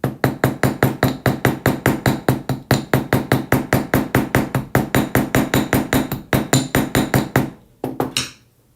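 Rapid, even hammer strikes flattening jewelry wire on a hard block, about four sharp metallic taps per second, close and loud, then a short pause and a few final blows.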